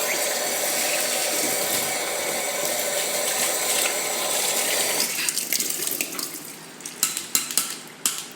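Freshly picked lemons being washed under running water, a steady close rush from a tap for about five seconds, then the flow stops and scattered clinks and splashes of fruit being handled follow.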